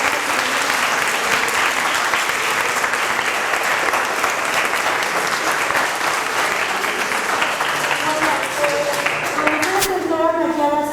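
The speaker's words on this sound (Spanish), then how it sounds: "le damos un aplauso nuevamente al doctor" A seated audience applauds a doctor after a talk on fungus-like organisms, a dense, steady wash of clapping filling the room for about ten seconds before tapering off as a voice begins.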